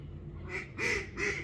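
Two or three loud duck quacks ring out close by in France, one after another, over a low background hum.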